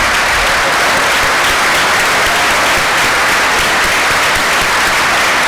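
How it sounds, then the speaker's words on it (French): Loud, steady applause from an audience at an award ceremony for a young professional woman in finance, a dense unbroken clapping that fills the room with no voices on top. "Mesdames et messieurs, je vous demande d'applaudir Madame Sheila Florentin"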